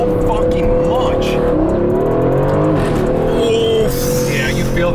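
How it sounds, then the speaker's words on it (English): A new Aston Martin Vantage accelerating hard from inside the cabin, its engine note rising loudly and steadily for several seconds while occupants talk excitedly over it. "Wow, the car just lifted up and just went."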